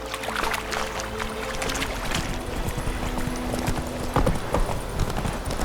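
Horse hooves clip-clop steadily at a walking pace in The Witcher 3 video game, close and continuous over a bed of ambient game sound.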